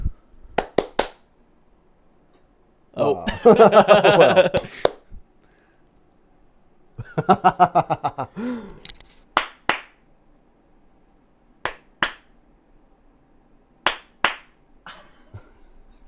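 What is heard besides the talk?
hands clapping three times to trigger a clap-on light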